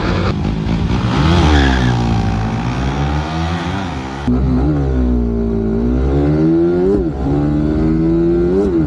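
A factory-stock underbone motorcycle accelerates from low to high RPM, its loud close engine note climbing in pitch, dropping at a gear change and rising again.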